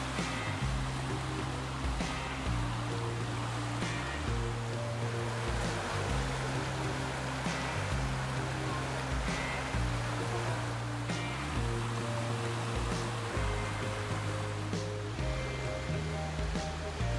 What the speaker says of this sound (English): It's moving water.